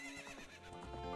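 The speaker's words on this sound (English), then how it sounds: "And now I can summon the horse." A horse in Zelda: Ocarina of Time lets out a single loud, close neigh with hoof clip-clops beneath it, lasting just over a second.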